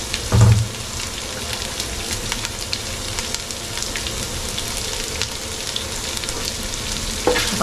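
Ginger and garlic frying in a pan for a Malabar trevally head curry, a steady close sizzle and crackle running throughout, with a brief louder clatter near the start and another near the end.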